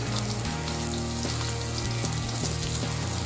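Shallots sizzle in melted butter in a hot frying pan for a French braised rabbit dish, a steady close crackle with no talking over it.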